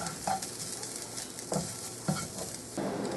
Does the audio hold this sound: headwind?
no